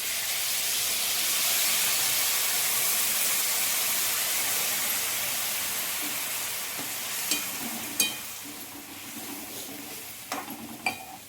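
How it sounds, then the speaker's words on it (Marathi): A loud, steady hiss of steam and sizzling rises when a glass of water is poured into a hot pot of steamed potatoes and vegetables, then fades; a few clinks and stirring scrapes follow toward the end. "बघा आता मी यामध्ये 1 ग्लास पाणी टाकते."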